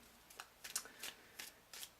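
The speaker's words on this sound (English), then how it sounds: "I've been shuffling for quite some time, a few minutes" Tarot cards being shuffled by hand make quiet, close riffling bursts, about five quick shuffles in a row, each a short papery flutter, with no talking.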